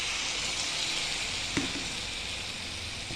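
Half-fried potatoes with poppy seed paste sizzle loudly and steadily in a pan, with one brief utensil clink midway.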